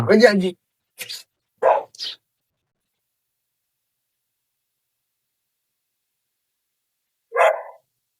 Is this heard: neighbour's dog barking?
yes